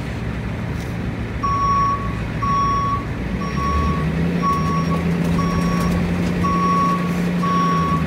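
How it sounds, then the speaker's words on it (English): A school bus's backup alarm beeps in a steady, evenly spaced rhythm over a low idling engine rumble while reversing up a street, fairly loud and close. "making friends with the backup alarm, for sure"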